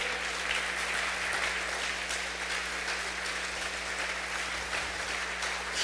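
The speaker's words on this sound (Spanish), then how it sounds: "Dale un aplauso entonces a Dios si tú lo crees." A church congregation at a Spanish-language fatherhood conference applauds steadily for about six seconds: dense, even clapping that fills the room, with a low constant hum underneath and no talking.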